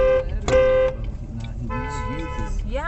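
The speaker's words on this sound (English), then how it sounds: "don't fucking honk back" Car horn honks in traffic, a couple of loud, brassy blasts up close, followed by people talking and shouting over road noise.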